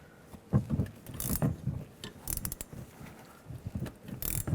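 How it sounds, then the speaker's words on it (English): A 14mm ratchet wrench tightens a front shock absorber nut on a 2000-06 GMC Yukon, giving quiet, irregular bursts of close mechanical clicking with no talking. "Now I'll just take a 14mm ratchet wrench."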